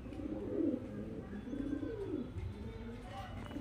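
Several highflyer pigeons coo in low, rolling murmurs, overlapping one another at close range against a steady background hum.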